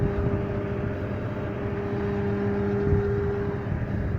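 A 2010 Ram 1500 pickup idles with its hood open, a steady low engine drone heard up close with a constant hum and no talking.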